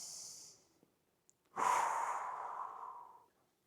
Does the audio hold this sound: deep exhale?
yes